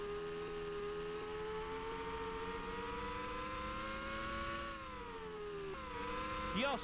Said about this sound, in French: je sens que le moteur là il est en train de lâcher